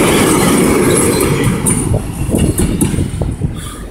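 Diesel shunting locomotive rolling along a rail siding, a steady loud low rumble with rattling wagon and wheel clatter close by, no talk.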